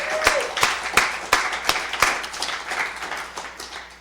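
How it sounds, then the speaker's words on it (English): Audience applause at a queer storytelling event: scattered hand claps with a few sharp louder claps standing out, close and steady for about four seconds. "So let's all give everyone that's here a round of applause."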